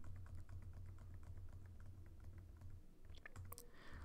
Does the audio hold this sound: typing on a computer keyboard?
yes